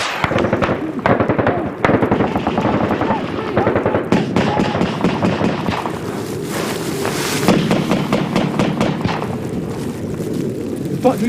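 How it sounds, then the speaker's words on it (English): Heavy gunfire and rocket-propelled grenade launches in Afghanistan combat, continuous loud cracking and booming bursts over roaring wind noise, with voices shouting now and then. "B Company return fire, but this just makes them launch more rocket-propelled grenades"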